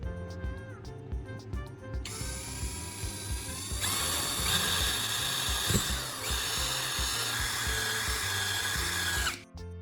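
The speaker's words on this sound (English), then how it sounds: "we'll drill a small hole in the bottom of the lighter casing to feed the electrical wire through" A small power drill bores a hole through the bottom of a lighter casing, a close high whine that starts, stops briefly, then runs steadily before cutting off sharply.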